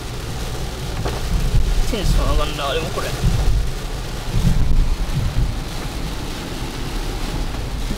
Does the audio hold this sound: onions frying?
no